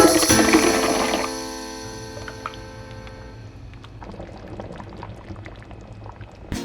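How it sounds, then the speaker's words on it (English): Chile and spice sauce pours and sizzles onto cooking pork in a hot pan, a loud bubbling, boiling hiss at first that gradually settles into a softer, steady simmer with small pops. "we are gonna add this sauce to the pork so the pork can cook longer with this sauce to absorb those flavors"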